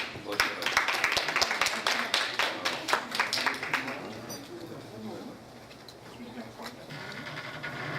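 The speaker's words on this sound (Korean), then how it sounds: "박수로 한번 환영해 주시기 바랍니다." A crowd claps in a quick, dense patter for several seconds at a Korean women's business association year-end gathering, then the applause thins and fades while a voice carries on.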